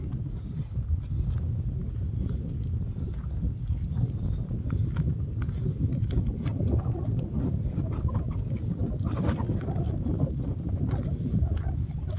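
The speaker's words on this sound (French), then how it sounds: "C'est pas agréable quand on entend du vent comme ça." Strong wind buffets an outdoor microphone, producing a steady, loud low rumble that fills the whole stretch without a break.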